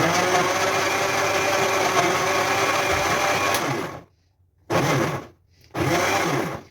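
A Tornado kitchen blender runs at its second speed with a loud, steady whirring motor drone up close, then cuts out and restarts in two short bursts separated by brief silences.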